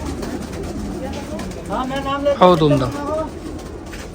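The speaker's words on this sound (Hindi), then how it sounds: "बहुत उम्दा कबूतर है" Pigeon cooing at a fancy pigeon keeper's loft, a burst of rounded, throaty coos in the middle of the moment, with someone talking throughout and fainter bird sounds behind.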